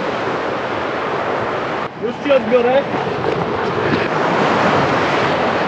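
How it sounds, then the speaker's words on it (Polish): Sea waves breaking on the Baltic shore at Rozewie, a constant rushing surf roar buffeted by wind on the microphone, with someone speaking briefly over it partway through. "Fala też jest."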